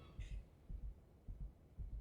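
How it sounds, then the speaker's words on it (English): A heartbeat sound effect pulses in steady paired thumps, low and soft, repeating about every half second with no talking over it. "There's a heartbeat."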